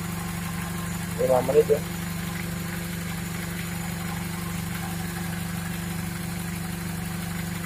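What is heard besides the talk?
Toyota Corolla engine idling after oil flush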